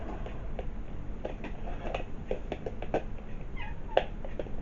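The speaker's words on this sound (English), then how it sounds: "my cat is meowing in the background" A cat meows a few times, faint and somewhat distant, over a steady broadband hiss of background noise.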